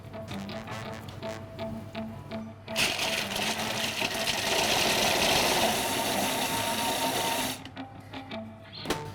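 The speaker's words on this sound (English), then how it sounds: "it's just coarsely sort of blended it down" Blender coarsely chopping garlic, pistachios, almonds, peppers, salt and leek oil, a whirring motor that surges loud for about five seconds between quieter mechanical ticking and idling.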